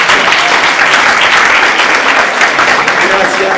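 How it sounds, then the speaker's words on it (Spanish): Dense, steady applause from an audience at a talk on Shakespeare, sustained and loud throughout with no pauses. "Y bueno, aplaudan."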